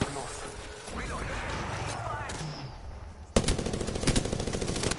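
Apex Legends gunfire crackles in rapid bursts amid game noise and speech, turning into a loud, dense stream of automatic shots in the last seconds.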